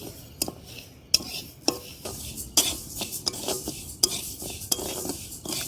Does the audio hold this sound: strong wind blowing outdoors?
no